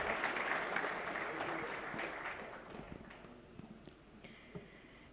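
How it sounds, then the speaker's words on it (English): Audience applause at an auto retail conclave session, a quiet, distant patter of clapping that thins out into a few scattered claps. "Ladies and gentlemen, can we have a round of applause?"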